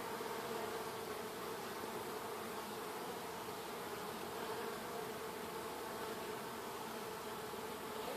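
Honey bees buzzing at a barrel top bar hive during an autumn inspection, a steady, close, continuous hum of many insects with no voices present, fairly faint overall.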